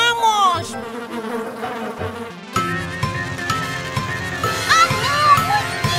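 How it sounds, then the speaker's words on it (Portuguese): Cartoon mosquitoes buzz in a thin, whining drone that shifts pitch, with a pause and then a fuller, louder stretch of layered buzzing over a bright musical backdrop. "Zum, zum, zum, zum, somos mosquitos."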